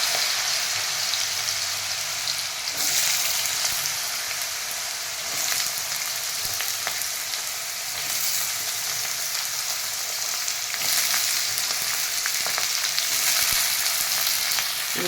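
Peeled potatoes cut into long french-fry strips bubble and sizzle steadily in hot oil, a dense continuous crackle filling the whole stretch with no voices.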